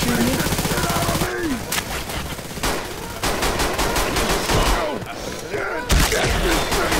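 Rapid bursts of gunfire from Left 4 Dead 2 play over several seconds, with sharp repeated shots mixed into a busy game mix while players talk and shout over it.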